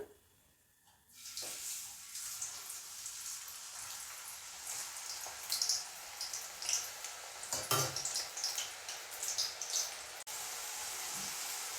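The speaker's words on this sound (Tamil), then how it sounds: "இப்போ எண்ணெய் நல்லா சூடாகிட்டது இப்போ இதில் முருங்கைக்காயை போட்டு பொறிச்செடுத்து கொள்ளுவான்" Drumsticks dropped into hot oil, starting with a quiet moment before a sudden rush of sizzle that settles into steady crackling and popping frying, close and continuous.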